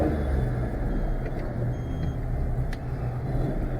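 A Daewoo Matiz engine drones low and steady as the car pulls away, a continuous rumble with faint higher squeaks above it and no voices.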